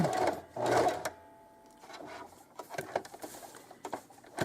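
A sewing machine stitches appliqué onto a sweatshirt in deliberately random lines, running in close, loud bursts with short pauses and a stretch of faint, irregular needle ticking between them.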